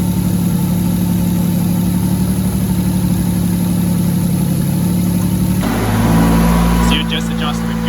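An RB25DET engine in an S14 Silvia runs on a dyno during warm-up, holding a steady idle drone that shifts to a deeper, fuller tone partway through, with voices talking over it.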